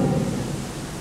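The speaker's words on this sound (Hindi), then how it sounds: "अब बारिश देखो बरस रही है" Rain falling steadily with a low thunder rumble, a loud, dense wash of sound with no voices, heard during a Sunday Mass homily.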